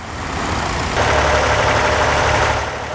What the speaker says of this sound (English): 2025 load-all towing the 1920 John Fowler ploughing engine.